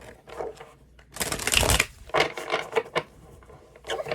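Tarot cards shuffled by hand in several bursts of papery riffling and slapping, separated by short pauses, close and fairly loud with no talking.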